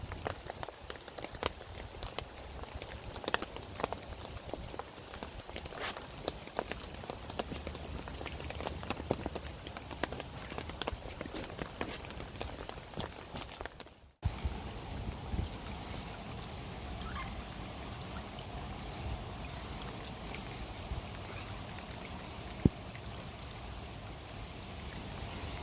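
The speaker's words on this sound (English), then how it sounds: "that rain is still coming down as it is now" Steady rain pours down outdoors during a carp fishing session in Norwich, Norfolk, a constant dense hiss of drops on surfaces lasting throughout, with a brief break partway through and one sharp tap near the end.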